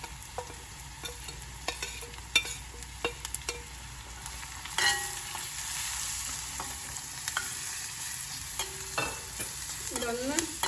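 Ground spices, including chilli powder, turmeric and a pinch of garam masala, frying in oil for mushroom masala, a close hiss broken by repeated spoon scrapes and clinks against the pan.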